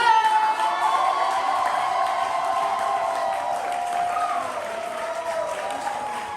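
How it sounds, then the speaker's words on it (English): A crowd at an Atlanta poetry slam applauds a poet in a loud, continuous roar, with cheering voices and whoops layered through the clapping for the whole stretch. "Applaud the poet, y'all."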